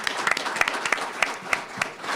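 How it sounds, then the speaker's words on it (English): A brief round of applause for Jessie Red, a colleague at USC, at a speaking event: a crowd claps in a dense, rapid patter with sharp individual claps standing out, fairly close, with no talk over it. "and to give Jessie a round of applause"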